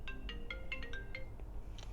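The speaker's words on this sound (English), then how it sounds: "phone rang" A phone rings with a quiet electronic ringtone: a quick series of bright, chiming beeps in a short melodic pattern, then a pause and one more chime. No one speaks.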